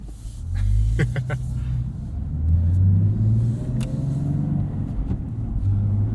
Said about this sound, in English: this just turned into a POV night drive